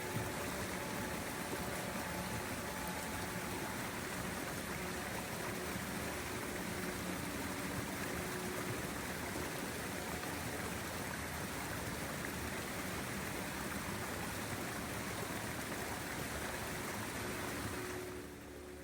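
A creek flows steadily beside a snowy winter hiking trail, a constant close rush of running water that fills the whole stretch and fades slightly at the very end.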